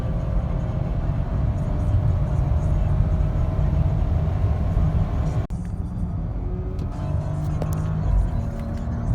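A 2019 Audi Q7 3.0T in dynamic drive mode accelerating hard, its engine a steady broad drone heard from inside the cabin, with a brief dip partway through before the pull continues.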